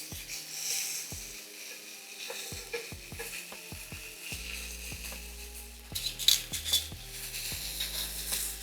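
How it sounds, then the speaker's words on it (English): Bacon-wrapped mozzarella sticks frying in a pan, a soft steady sizzle with scattered knocks and scrapes of a utensil as pieces are turned, followed by louder clatter near the end. "We are going to flip our bacon"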